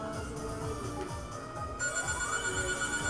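A telephone ringing in the video game Blinx 2, a repeated electronic ringtone trilling over the game's background music and sound effects, loud and close, with a rising tone toward the end.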